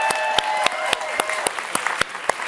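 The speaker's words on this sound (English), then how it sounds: "Give them one more round of applause." Studio audience at a 55+ edition dating game show claps steadily throughout, a dense sustained applause with a few sharp louder claps standing out near the listener.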